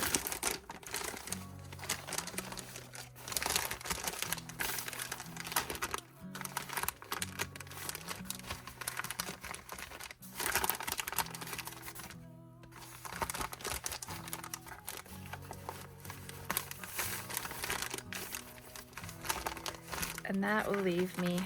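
Tissue paper being handled for an art journal cover gives steady close crinkling and rustling throughout, with brief gaps and light tapping-like crackles, and a voice talks intermittently over it.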